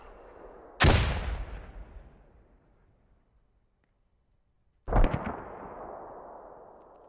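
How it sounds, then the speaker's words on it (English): A thrown grenade goes off during a competitive video game championship match, giving two loud, sharp blasts about four seconds apart, each with a booming low rumble that trails off slowly. "He throws a grenade out."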